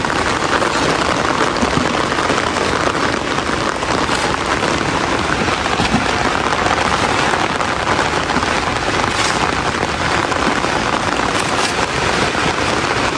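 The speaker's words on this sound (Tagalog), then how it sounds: "Lalo pong nalakas ang buhos ng ulan." Heavy, steady rain pours down in a dense, loud hiss that fills the whole stretch without letting up.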